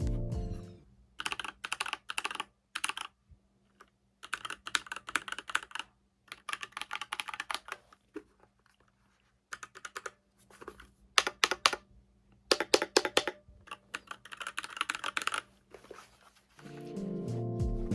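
Bursts of clacky typing on a new, out-of-the-box ilovbee i87 mechanical keyboard, close and crisp, in rapid runs separated by short pauses.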